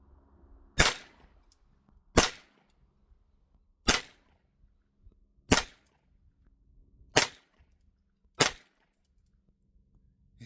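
Six sharp gunshots from a Ruger Mark IV 22/45 .22 pistol, evenly spaced about every second and a half, each a crisp crack with a short decay against quiet outdoor background.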